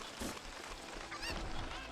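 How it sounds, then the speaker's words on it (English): A Cucco chicken in the Ocarina of Time Randomizer video game lets out a couple of brief, honking squawks close by, over steady game background noise. "Chicken, stay there."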